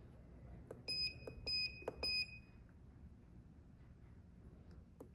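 A FXTUL M6 device fitted to a Ducati SuperSport gives a quick series of sharp electronic beeps in short bursts, clear over a quiet background that then settles into low hum.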